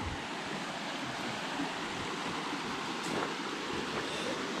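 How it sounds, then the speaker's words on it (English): River or creek water flows in a steady, broadband rush, continuous and moderately faint with a little wind, with no talking. "So this is the river they went into."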